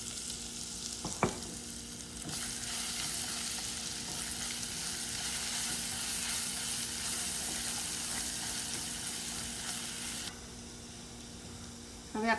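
Garlic and ginger paste sizzles in a pan for a restaurant-style methi matar malai, making a steady, close frying hiss with a small clink near the start.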